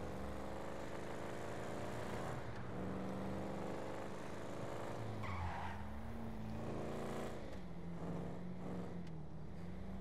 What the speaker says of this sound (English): That sounds like your truck.